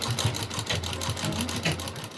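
Sewing machine stitching fabric for a small Laddu Gopal dress, a rapid, even mechanical whirring with a soft rhythmic chatter, close and moderately quiet, heard alone.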